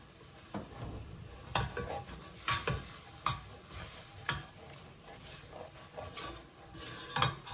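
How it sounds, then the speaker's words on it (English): A butter and flour roux sizzles in a pan as it is stirred, a steady quiet fry broken by repeated scraping and clinking of the utensil against the pan. "Add a teaspoon of butter. I'm making a roux."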